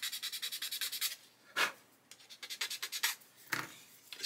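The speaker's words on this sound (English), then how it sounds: "So what I'm going to do is cut a bit of a chamfer into there and into there." A blade scrapes a chamfer into a plastic part from a 1/48 Airfix Sea King model kit, in rapid rhythmic strokes close to the mic, pausing between short bursts.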